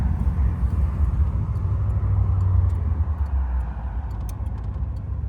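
A 1956 Ford Fairlane Sunliner convertible pulls away under light throttle, its engine a deep, steady rumble heard from close by with faint ticking on top, easing off slightly toward the end.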